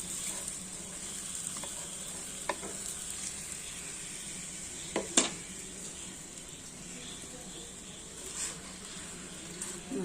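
Folded wheat-flour dosa (madakkappam) frying crisp on a pan, a soft steady sizzle with a faint hiss and a few light scraping taps, quiet and close, without talking.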